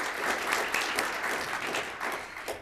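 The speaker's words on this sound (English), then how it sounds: "Let's give her a second round of applause." An audience at an alumni banquet claps steadily in warm, sustained applause, fairly close and even throughout.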